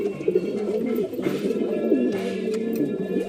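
Several tournament pigeons at a house loft give a run of low, bubbling coos, overlapping and repeating steadily at close range with no one talking.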